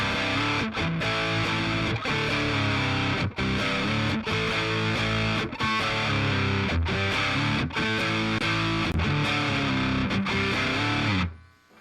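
A riff on an electric guitar played through a high-gain VOX Cambridge50 amp, a loud, heavily distorted, chugging riff with rhythmic breaks, sustained for about eleven seconds before fading out, with no talking.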